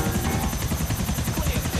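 A helicopter rotor in GTA thumps in a fast, steady rhythm over a loud engine whine, close and continuous.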